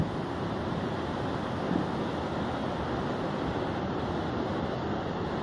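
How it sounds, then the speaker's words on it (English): A steady, dense roar of rushing water fills the clip without pause, loud and close, with no voices. "Get out of the sound of the waterfall a little bit"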